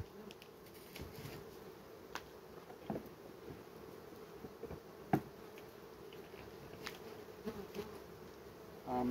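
Honeybees hum steadily in an opened queenless beehive, a dense continuous drone close by with occasional faint knocks and rustles over it and no speech.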